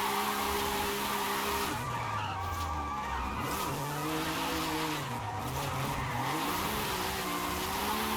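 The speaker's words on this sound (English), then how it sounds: "This is going to be fun for low-speed drifting." A car drifting at low speed in the racing game Forza Horizon, with continuous loud tire squeal and a wavering engine note that rises and falls as it slides through direction changes.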